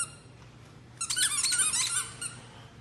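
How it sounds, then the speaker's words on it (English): A ballyhoo fish, handled as a trophy catch, lets out a burst of high, rapid squeaking and creaking for about a second, close and fairly loud after near silence. "This is the sound that they make when they break their back."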